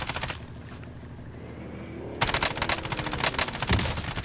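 Rapid automatic gunfire in the Warzone video game, with dense bursts of shots early on, a brief lull, then a louder, sustained volley of repeated shots close by.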